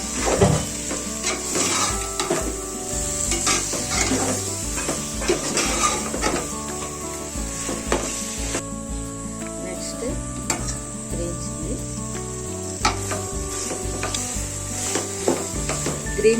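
Tomatoes going into a hot pan of frying mutton biryani masala, with a steady sizzle under repeated scraping and clattering stirring strokes against the pot, close and fairly loud throughout.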